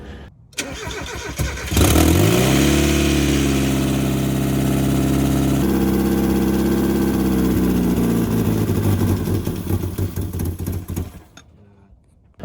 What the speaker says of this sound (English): the car ran for a solid like 2 minutes